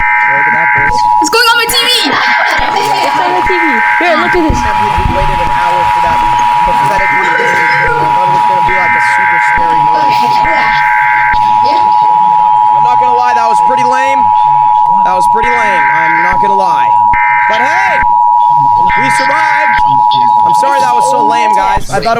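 A FEMA emergency alert test plays loudly on a TV, a steady high tone under repeated beeping attention bursts that lasts the whole stretch, while people talk over it.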